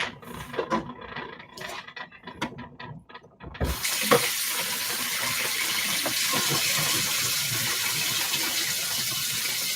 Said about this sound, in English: I should probably add more water now